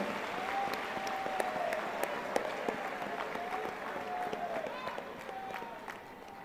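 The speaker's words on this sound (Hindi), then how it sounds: "एक बार खुद के लिए भी ताली बजाएं कि आप भी महान कार्य के लिए आए हो।" A crowd at a spiritual gathering breaks into sustained applause, dense steady clapping from many hands filling the space at moderate loudness and tapering slightly toward the end.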